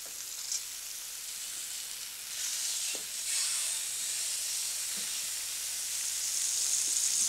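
A big leg of lamb browning in a hot pan, a continuous close sizzle and hiss that swells slightly partway through, with a few light knocks and no speech.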